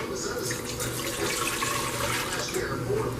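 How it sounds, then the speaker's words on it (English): Two cups of water being poured into a container, a steady close splashing trickle throughout, with speech over it. "I'm gonna pour in 2 cups of water"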